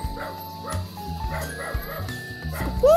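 A dog yips and barks a few times at a moderate distance, with faint background voices and a higher whine near the end.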